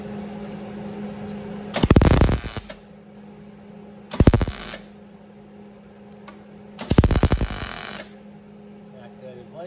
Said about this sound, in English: Now I'm gonna weld that in.